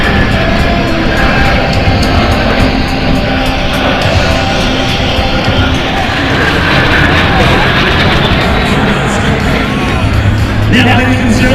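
Patriots Jet Team jets roar steadily overhead at the 2009 MCAS Miramar Airshow, a loud continuous engine wash filling the scene with no break.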